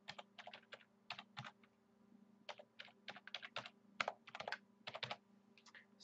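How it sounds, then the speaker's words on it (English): An admin username and password typed on a computer keyboard at a router login page, in short bursts of quick crisp key clicks separated by brief pauses, close and fairly quiet, with a low steady hum underneath. "Type in your admin username and password."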